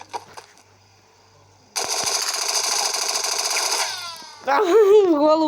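A burst of rapid automatic rifle gunfire in The Henry Stickmin Collection rattles for about two seconds, followed by a warbling electronic effect.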